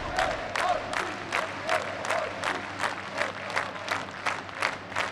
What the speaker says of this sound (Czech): Zasloužený potlesk pro prostějovské hráče